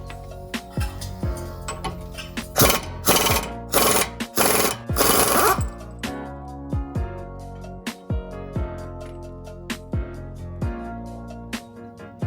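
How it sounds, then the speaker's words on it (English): Pneumatic impact wrench cracking loose an axle nut on a Honda S2000, sounding as several loud, short rattling bursts in close succession over a garage background with sharp metallic clicks and taps between them. "I've got my impact over here on this side so that I can go ahead and crack that nut off."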